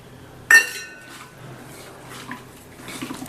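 A spoon strikes a metal pan with one sharp, ringing clink while ground masala is mixed into chicken, followed by softer scraping and stirring sounds at close range.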